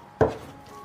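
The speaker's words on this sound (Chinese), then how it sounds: "先把这个牛肉给它切小块，然后剁碎" A single sharp knife chop lands on beef on a cutting board as it is minced, a brief close thud followed by quiet.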